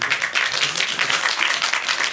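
Audience at a film screening and Q&A for the action movie 'Sabertooth' at Busan Cinema Center gives a brief burst of steady, fairly close applause, an even patter of many hands.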